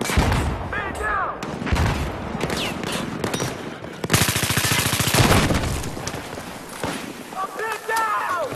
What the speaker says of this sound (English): I'm taking a lot of enemy fire here.